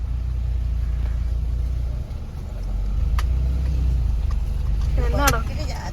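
A car engine idling and rumbling low as the vehicle pulls over to park at the roadside, steady and close throughout with people talking over it.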